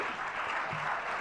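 Audience applause at a Jain religious discourse gathering, a dense steady wash of many hands clapping filling the whole moment without pause.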